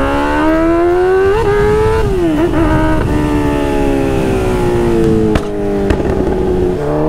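Honda Hornet motorcycle engine revving on a ride, a loud close whine rising and falling through gear changes with steady wind rush beneath and brief clicks.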